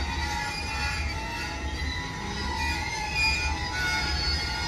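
Loud, continuous grinding and high-pitched squealing from a freight train's brakes and wheels, steady throughout with a heavy low rumble underneath.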